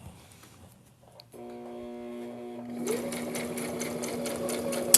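A sewing machine stitching a fabric face mask hums as its motor starts, then runs into a steady, rhythmic stitching patter that stays close and moderately loud.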